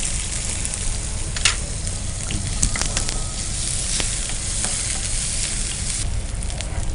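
Onions fry in oil with cumin, mustard seeds and whole garam masala for a tomato mushroom curry, a loud, dense, continuous sizzle with crackles and occasional stirring scrapes, close up and without speech.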